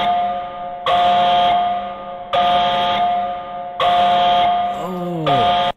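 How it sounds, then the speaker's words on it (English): Container alarm from the Minecraft HBM mod: a loud, buzzy electronic tone repeating in three long pulses separated by short gaps, with a falling, warbling sweep just before the final pulse. "next one is the container alarm"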